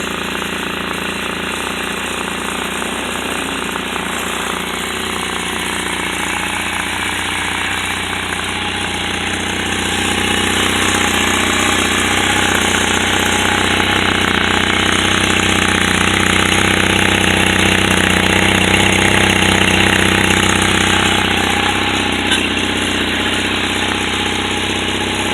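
A 1986 Honda Nighthawk 450 cafe racer motorcycle engine runs steadily and close, with a loud rattling, buzzy idle that rises a little partway through and then settles.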